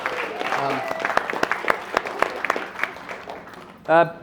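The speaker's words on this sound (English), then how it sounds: "So a big clap for everyone being involved here tonight" Parents and players at an under-12 junior football jumper presentation give a brief round of applause, scattered distinct claps in an indoor room, followed by a voice starting to speak.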